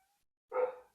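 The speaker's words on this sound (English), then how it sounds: "oh, can you hear the kitty?" A house cat gives one short meow close by in an otherwise quiet room during hand stitching, with no talking over it.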